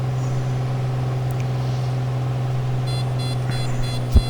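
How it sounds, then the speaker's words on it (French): A landing gear warning alarm in a Piper PA28 Arrow Turbo cockpit starts partway through as a pulsing high tone over the steady, loud drone of the aircraft engine. "c'est le petit signal parce que j'ai trop baissé les gaz et puis il aimerait que je sorte le train"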